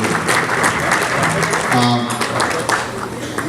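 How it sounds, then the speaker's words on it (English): An audience at an annual luncheon gives a councilwoman a round of applause, with dense clapping running throughout and a voice briefly audible partway through. "Let's have a big round of applause for Senior Councilwoman Dorothy."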